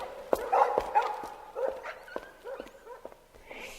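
Several dogs bark and yip in short, uneven bursts, fairly close, with some whimpering among the barks and no talking over them.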